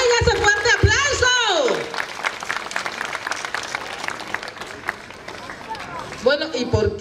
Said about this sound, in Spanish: Por favor, que se oiga ese fuerte aplauso.